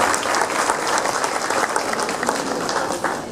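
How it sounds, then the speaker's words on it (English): Audience applause at a school's LKG class Expression Day event, dense steady clapping from a large crowd throughout, with faint voices mixed in. "I request all of you to give a huge round of applause for them."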